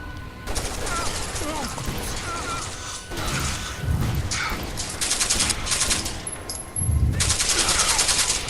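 Gunfire from a Desert Eagle Magnum in the video game Rainbow Six Vegas 2: several sharp, loud bursts of shots with mechanical clicks and rattling between them, ending in heavier blasts.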